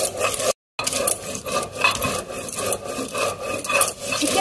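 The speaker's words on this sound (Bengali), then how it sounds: "প্রথমে জিরেটা বেটে নিই।" Cumin seeds ground on a flat grinding stone for Bengali chicken kosha, a steady rhythmic rubbing and grating of stone on stone, close and fairly loud, continuing without talk.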